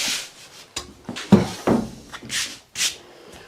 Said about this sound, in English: So this is going to be sanded now.